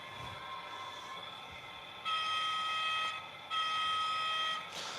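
A model diesel locomotive running: a steady tonal hum with two louder sustained horn-like blasts, each lasting about a second, heard close with no talking.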